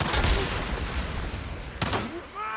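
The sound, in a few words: explosion set off in video game Days Gone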